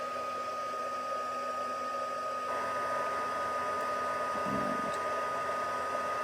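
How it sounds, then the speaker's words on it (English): A heat gun on its high setting blows steadily to melt embossing powder for card making, a constant whirring hiss with a faint shift in tone partway through. "Now we can bring in the heat gun, and I use the high setting"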